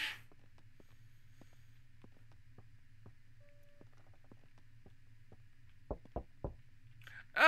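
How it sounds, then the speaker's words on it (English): Sparse single knocks tap at irregular intervals in the horror video game Ghost Exile, faint over a low steady hum, then a few louder sharp knocks near the end. "I hear you knocking."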